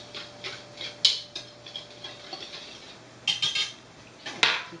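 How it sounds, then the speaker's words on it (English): A whisk clinks against a bowl while stirring dry ingredients with ground almonds, light scattered metallic taps and scrapes with a few louder knocks, close and fairly quiet. "So just going to whisk this together so everything's like distributed."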